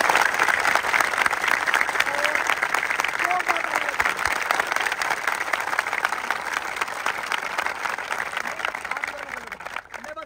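Loud sustained applause from a large crowd of army academy trainees clapping for their parents, a dense steady roar of hands lasting throughout and tapering slightly at the end.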